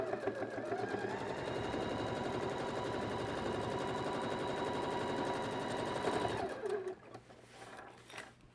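Sewing machine topstitching the lining of a zip pouch, a fast steady mechanical whir of needle strokes running for about six seconds before stopping abruptly, followed by a few quieter handling sounds.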